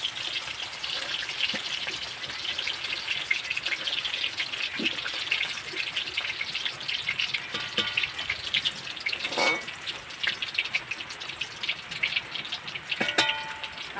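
Ivy gourd slices fry in oil, with a continuous moderate bubbling sizzle and scattered sharp clinks of stirring.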